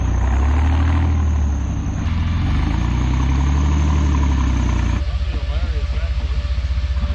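A vehicle engine runs loud and close at a steady rumbling idle while the driver tries to get unstuck, with a brief shift in tone partway through and no clear talking.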